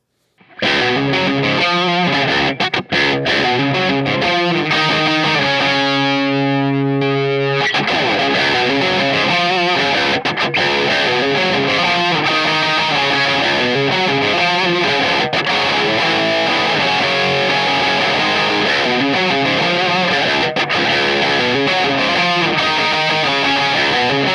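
Loud, sustained distorted electric guitar through a Klon KTR overdrive pedal and Marshall DSL40 tube amp, warm, saturated tone, playing chords and riffs continuously, with a brief break near the start.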